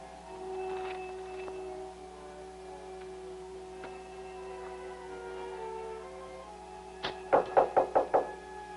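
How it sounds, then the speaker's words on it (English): Rapid knocking on a door comes near the end: six sharp, evenly spaced raps after a long quiet stretch with faint room tone and a few distant tones. "Come on, Stan. Open the door."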